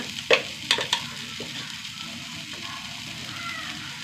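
Ginger and garlic frying in a pan give a steady sizzle throughout, with a few sharp clinks of a spoon against the pan near the start.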